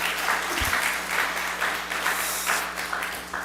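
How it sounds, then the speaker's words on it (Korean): A church congregation claps together during a Sunday service, a steady, dense wash of applause that fills the room evenly from start to finish, with no voices over it. "다시 한번 박수로 격려해 주시죠"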